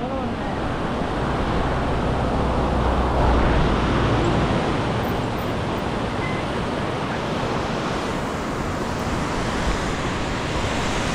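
A fast-flowing, dangerously swollen river, a loud unbroken roar of rushing water filling the whole clip, close and steady with slight surges.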